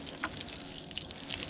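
Water trickling and dripping as a perforated worm compost bin is lightly watered, a soft patter of scattered drops over a steady wet hiss, close and fairly quiet, with no speech.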